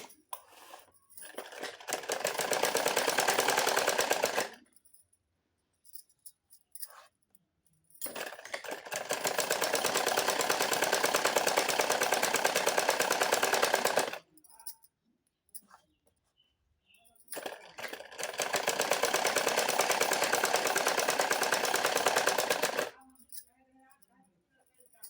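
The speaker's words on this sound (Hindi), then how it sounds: "सिलाई लगाते हैं हमें सीधी तरफ सिलाई, कपड़े को इस प्रकार करते सिलाई लगा देनी है।" Electric sewing machine stitching blouse fabric in three long, steady runs of rapid whirring, separated by short pauses filled with faint handling noises.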